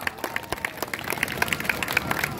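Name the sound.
applause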